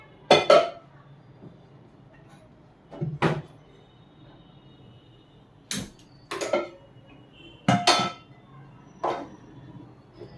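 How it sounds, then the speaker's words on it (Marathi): A heavy-bottomed cooking pot clanks as it is set down on a gas stove, with several sharp metallic knocks and scrapes spaced out over ten seconds in a quiet kitchen. "तर हे घेतलेला आहे मी टोप. तर चला आता मी गॅसवर ठेवून घेते."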